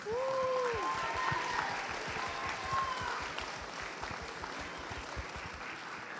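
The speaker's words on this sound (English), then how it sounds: "Let's go ahead and give them another big round of applause." An audience applauds dancers at an elders and youth conference, the dense clapping steady throughout with a short whoop or cheer near the start, then gradually thinning toward the end.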